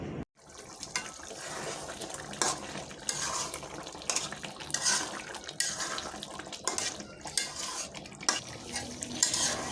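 Meat braising in a pot on a low gas flame is stirred with a metal utensil, giving steady scraping and clinking with a wet, bubbling texture throughout, close and fairly loud, with no voices.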